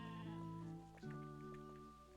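Sheep bleat twice in the Discounty farming game, each cry a wavering, nasal tone about a second long, sounding close and clear with no talk over them.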